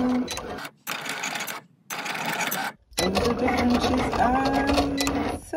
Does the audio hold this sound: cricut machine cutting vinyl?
yes